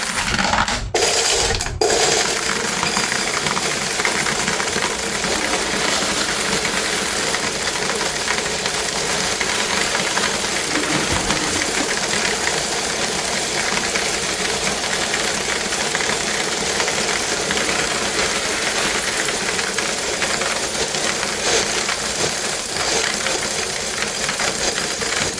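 Quarters clattering and jingling as coins are collected from front washers at a laundromat, a steady dense metallic rattle running throughout, close and continuous with a couple of sharp clunks near the start, no talking.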